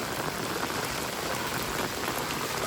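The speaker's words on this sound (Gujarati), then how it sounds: "વરસાદ ચાલુ થઈ ગયો" Early-morning rain falling steadily on surfaces, a dense, even wash of patter with no pauses and no voices.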